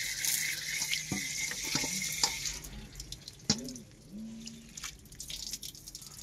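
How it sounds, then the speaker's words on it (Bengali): Water from washed flattened rice (poha) is strained off in a kitchen, giving a steady close trickle and splash with scattered drips and light clinks, no talking. "এবার জলটাকে ছেঁকে নেবো।"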